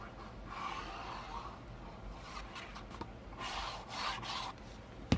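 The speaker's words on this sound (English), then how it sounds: "I'm going to add adhesive to my 1/2 inch piece here" Adhesive applied to a half-inch paper piece while assembling an Authentique Imagine mini album: soft, close rubbing and light scraping strokes come in uneven bursts, with a small tap at the end and no talking.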